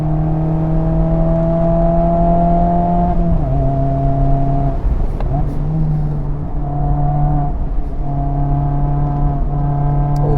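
A Mazda Miata sports car engine revs close and loud with a steady harmonic drone, its pitch stepping down and back up through downshifts and acceleration on a driving track, with no talking.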